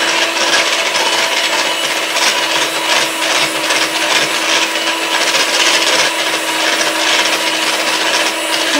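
An electric hand mixer whips Dr Oetker café gourmand dessert mix into a firm mousse, giving a steady, loud, continuous whirring buzz with a gritty beating texture and no break.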